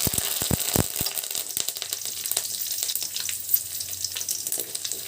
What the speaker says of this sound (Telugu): ఆయిల్ కాగింది కదా జీలకర్ర ఆవాలు మెంతులు అట్నే ఎండుమిర్చి కరివేపాకు